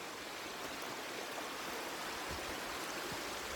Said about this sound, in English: Okay, you hear that stream there?